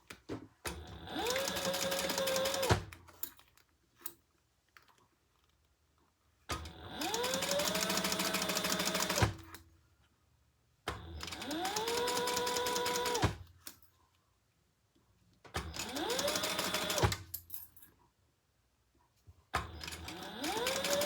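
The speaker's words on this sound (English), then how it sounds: "we're gonna sew that together at the seam allowance in the pattern" A sewing machine stitches the seam on a black and leopard mini crossbody bag panel in four separate runs of fast, close mechanical whirring, each lasting a couple of seconds, with quiet pauses between them.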